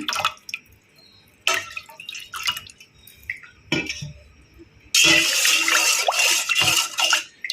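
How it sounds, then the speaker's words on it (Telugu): Cooled sugar syrup is poured into lemon juice for a lemon sharbat, with a few drips and small clinks of glass and utensils, then a louder sustained splashing pour near the end. "ఇప్పుడు ఇందులో మనం కాచి చల్లార్చిన షుగర్ సిరప్ వేసుకోవాలి"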